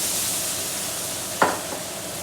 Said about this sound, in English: So now we're gonna go ahead and we're gonna add beef broth.